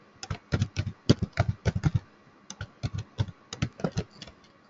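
Fast bursts of key clicks on a computer keyboard as a Java program is typed, close and clear, in uneven rhythmic clusters with brief pauses between them.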